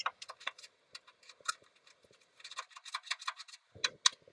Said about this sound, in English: so I got myself a small screwdriver and a poke around in there